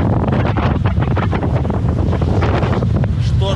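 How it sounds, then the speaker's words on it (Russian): Storm wind buffets a microphone at a port on Siquijor island, a loud continuous roaring rumble with gusty surges and possible surf beneath, no voice present. "Шторм так и не прекращается уже 4 дня."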